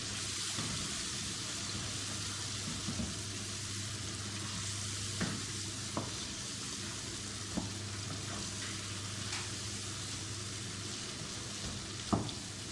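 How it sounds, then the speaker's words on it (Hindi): Potatoes and chicken fry in a pan with a constant hiss of sizzling oil, while occasional stirring knocks and scrapes sound over it at a moderate distance, with no talk. "अब हम उसके अंदर आलू डाल लाते हैं। बिस्मिल्लाहिर्रहमानिर्रहीम। आलू को इसी तरह फ्राई करेंगे।"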